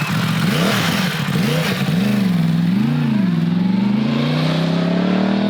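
A Yamaha R1 superbike engine while riding on the road, loud and close, with a rising and falling rev pitch that wavers, then climbs steadily as the bike accelerates; no talking.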